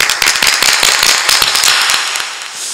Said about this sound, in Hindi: ताली बजा दो इनके लिए जोरदार एक बार।